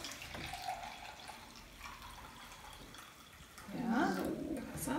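Warm water is poured from a tap or jug into a container for a homemade sugar-water hairspray; a soft running trickle swells into a louder, fuller pour near the end, with faint household background.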